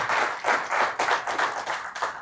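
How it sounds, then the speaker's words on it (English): A room full of people clapping steadily, sustained applause with a dense, even rhythm throughout. "Can we give you a big round of applause, please?"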